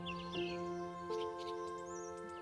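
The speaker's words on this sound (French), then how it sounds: "Tu te délectes à nouveau du chant des oiseaux" Birds sing in a forest, several thin chirps and warbling calls over a soft, steady tonal drone, moderately distant and quiet.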